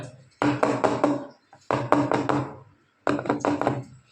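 Three quick bursts of light tapping of a cake tin holding banana cake batter, each a rapid cluster of knocks on a hard surface, separated by short pauses.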